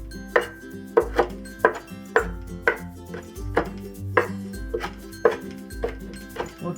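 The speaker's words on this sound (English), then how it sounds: "Remove the mint leaves. We'll just slice it also." Mint leaves are sliced with a knife on a cutting board, giving a steady run of crisp, close chopping taps in a regular rhythm with no talk.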